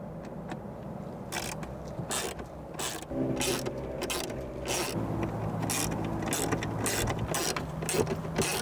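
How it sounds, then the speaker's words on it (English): A 7mm socket wrench ratchets screws tight inside a Jeep Cherokee center console, quick repeated clicking bursts close up over a faint steady hum. "use a 7mm socket wrench to tighten them"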